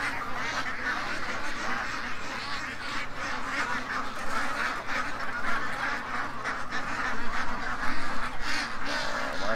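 A close farmyard flock of ducks and geese keeps up a dense, steady stream of quacking and honking for the whole stretch, with no talk over it.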